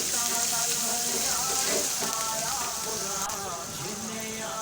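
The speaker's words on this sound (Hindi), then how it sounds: "तो चलिए थोड़ा सा इनको भून लेते हैं।" Chicken filling fries in a pan with a steady, dense sizzle and crackle throughout, close and fairly loud, with faint background talk.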